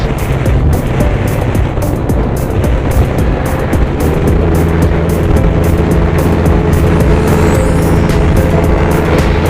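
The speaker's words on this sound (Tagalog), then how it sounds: "medyo malakas ang hangin dito mga idol. Grabe oh. Pumapagaspas sa motor ko." Strong wind roars and buffets steadily around a rider on a moving motorcycle, a dense, loud rumble of gusts and engine noise throughout with no talk.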